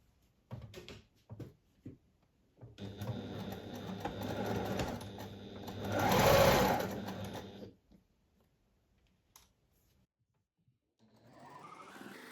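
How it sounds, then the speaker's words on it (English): A sewing machine stitches a 1 cm seam around the top perimeter of a slouchy sewn piece, starting with a few short bursts, then running steadily and speeding up briefly before stopping, close by. "now I'm going to sew around the top perimeter with a 1 centimeter"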